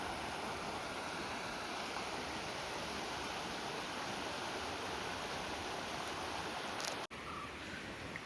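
A river stream in a village setting flows steadily, a dense, continuous rush of water close by that holds even for several seconds, with a brief dropout near the end.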